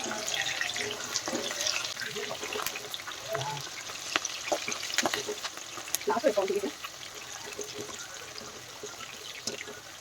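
Chopped green chillies dropped into chicken 65 frying in hot oil give a continuous close sizzle and crackle with some stirring, and a voice is briefly heard over it.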